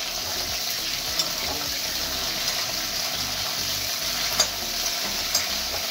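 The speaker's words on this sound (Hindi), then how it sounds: "इन्हें जो है बहुत अच्छे से मुझे फ्राई करना है।" Broccoli frying in very hot oil gives a steady, loud, dense sizzle throughout, with a few faint clinks and stirring scrapes over the constant crackle.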